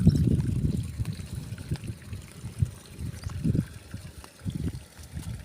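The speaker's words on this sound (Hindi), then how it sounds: "इस खड्डे से ये पानी निकल रहा है, देख लो।" Water trickles and gurgles out of a pit fed from near a solar panel setup outdoors, a low, uneven burbling flow that swells and dips continuously.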